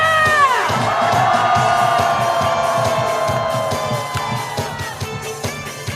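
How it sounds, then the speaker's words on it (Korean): A protest crowd at a candlelight rally calling for Yoon Suk Yeol's impeachment roars together in a long sustained shout, loud and dense, with cheering and some clapping as it gradually subsides. "윤석열 탄핵을 향한 함성"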